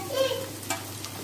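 Chicken liver (kaleji) dropping into a hot pan with lightly browned onions, giving a short, soft sizzle and a brief stir at close range, fairly quiet and without talk.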